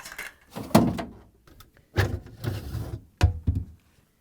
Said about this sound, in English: We'll continue with pulling out the drawers